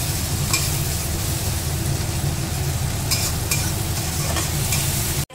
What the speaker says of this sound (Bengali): তো এইবার মা ভাজতে থাকবে যতক্ষণ না আদার যে কাঁচা গন্ধটা সেটা চলে যায়